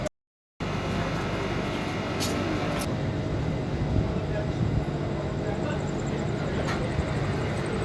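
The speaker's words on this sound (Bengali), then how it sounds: "এই মুহূর্তে আমাদের ট্রেন চলে আসলো মেসেদা" Passenger train, the Sri Jagannath Express, pulling into Mecheda station: a steady, loud rolling rumble and rail hiss fill the clip after a brief silent start, with a few faint higher clanks.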